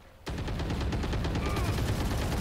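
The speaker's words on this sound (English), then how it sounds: "Whoa, he's using a chain gun." Rapid, sustained automatic fire from a chain gun in the video game Valorant, starting abruptly after a brief lull and continuing loud and dense without a break.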